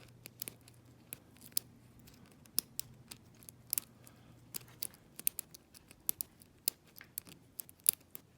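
Small crisp clicks and ticks from a PAPAIZ 45mm padlock being picked, scattered irregularly over several seconds, close and quiet, with no talking.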